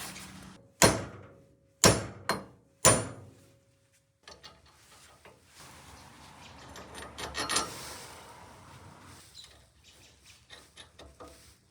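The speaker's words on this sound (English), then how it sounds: "It's time to hammer these out, put these in, and gap the wheels correctly." Three loud, sharp hammer blows land about a second apart as wheel studs are hammered out on a Factory Five 818, followed by quieter metallic clattering, scraping and handling noises.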